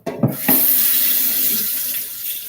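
A kitchen sink tap gushes water for washing up after a couple of clunks, a loud, close, steady rush that eases slightly toward the end.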